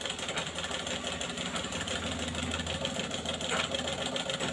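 Sewing machine stitching fabric in a tailoring class, with a continuous, fast mechanical whirring and rattling close up that holds steady for several seconds, no talk.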